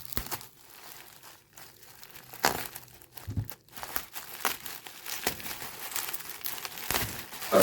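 A taped-up e-reader package being opened by hand, with close crinkling plastic and tape being torn in irregular bursts and rustles, with short pauses between.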